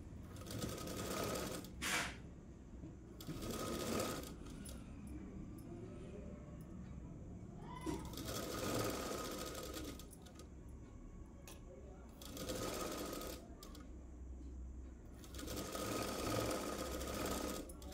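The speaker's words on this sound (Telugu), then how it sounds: "ఇప్పుడు డబుల్ స్టిచ్ చేస్తున్నాను." A sewing machine double-stitches the hand joint of an umbrella dress, running in several loud bursts of rapid stitching separated by short pauses of quiet handling.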